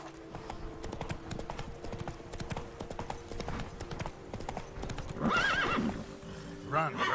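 Roach the horse galloping in The Witcher 3: Blood & Wine, with rapid, steady clip-clop hoofbeats throughout and a loud neigh near the end, over game sound and a voice.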